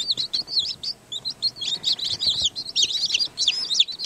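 Newly hatched Americana and Araucana chicks peep constantly in a close, busy chorus of high, shrill chirps overlapping one another with faint low rustling underneath.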